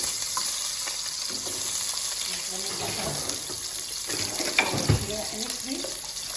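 Onion sizzling in hot oil in a pot for Iraqi chicken kabsa, a steady broad frying hiss with occasional stirring scrapes, close and moderately loud, and no speech.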